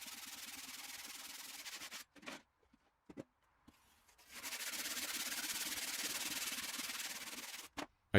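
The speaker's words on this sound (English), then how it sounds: "The radius is marked and can then be cut out with a regular handsaw" Rough rasping strokes of a regular handsaw cutting through fire bricks, first a few short bursts with pauses, then a sustained steady sawing run, close and fairly quiet.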